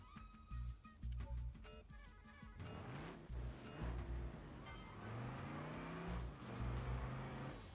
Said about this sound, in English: we're doing a little bit of burnouts